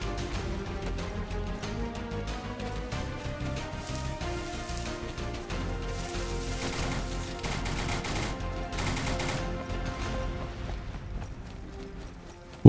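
Rapid gunfire in the DayZ video game, a dense sustained burst of shots and mechanical clatter running steadily for several seconds with brief louder flurries, no talk over it.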